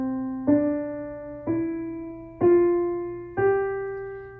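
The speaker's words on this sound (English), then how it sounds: "I've pre-recorded into my digital starting at middle C and playing the next 4" Digital piano plays five single notes rising stepwise from middle C, evenly spaced about a second apart, each a clean strike that decays gently, close and moderately loud.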